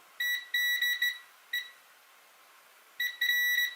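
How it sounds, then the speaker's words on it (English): Continuity tester probes beep when touched together during a MacBook Air power button repair, giving several short high-pitched electronic beeps in quick bursts separated by pauses, clear and alone over a quiet background. "My probes are beeping when I touch them together."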